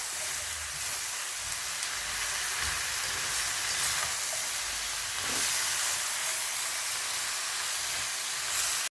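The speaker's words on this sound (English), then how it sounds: "Stir fry these for 5 minutes." Mixed vegetables such as broccoli and bean sprouts stir-fry in a hot pan over high heat for chicken chow mein, giving a steady, loud sizzling hiss that runs throughout without a break.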